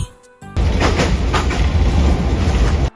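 Passenger train running from Mymensingh to Dhaka in Bangladesh: loud, steady rolling rumble of wheels on rails with a faint rhythmic clatter, starting abruptly after a quiet moment and cutting off at the end.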